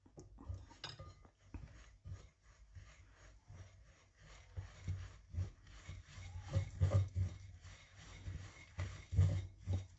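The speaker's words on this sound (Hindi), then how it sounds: "अच्छी तरह मिक्स करेंगे।" Gulab jamun dough being mixed by hand, with close, irregular rubbing and squishing strokes in a bowl and occasional light knocks, continuous and moderately loud throughout.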